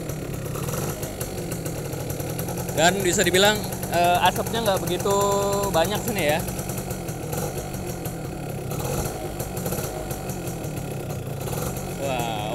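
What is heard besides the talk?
Yamaha F1ZR two-stroke motorcycle engine idling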